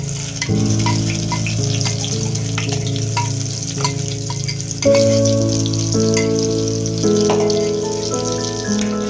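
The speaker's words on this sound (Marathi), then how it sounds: "छान तेलावरती आपण परतवून घ्यायचं।" Ground masala paste for a prawn (kolambi) masala fries in hot oil, giving a continuous close sizzle over a sustained tonal background with no voices.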